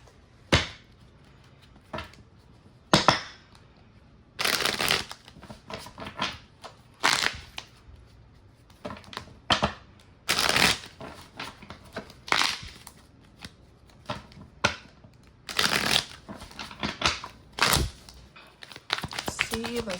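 Tarot cards are shuffled in a run of sharp, papery riffling bursts that come every second or two for about twenty seconds, close and fairly loud, with a voice speaking at times between them.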